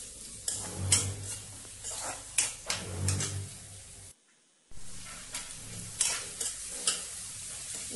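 Sliced onions fry in a pan with periodic spatula stirs and scrapes over a light sizzle, close and quiet, with a brief silent gap midway.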